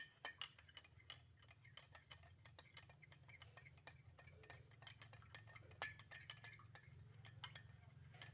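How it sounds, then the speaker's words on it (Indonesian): A spoon stirring salt into hot water in a glass, rapid light metallic clinks and ticks against the glass repeating steadily throughout, faint and close, over a low background hum. "Kemudian kita aduk."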